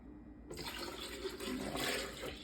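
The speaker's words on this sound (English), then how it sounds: "I'm just gonna put all of this in my blender, and then I'm just gonna put my milk here" Milk poured into a Vitamix blender jar, a steady close splashing pour that starts abruptly and runs without talk.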